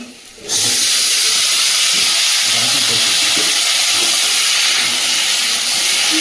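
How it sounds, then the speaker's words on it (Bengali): Chopped onion, chili, tomato, potato and ginger hit hot oil in a pan, bursting into a loud, steady sizzle and hiss that holds unbroken for several seconds after a brief quieter start. "তেলের মধ্যে আদা কুচি দিয়ে দেবো, কেটে রাখা সবজিগুলো দিয়ে দেবো, পেঁয়াজ লঙ্কা টমেটো আলু।"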